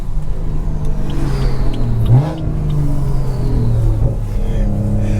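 A tuned BMW 340i accelerates hard, and its engine drone climbs in pitch before a quick shift, then rises again in a loud, steady in-cabin roar.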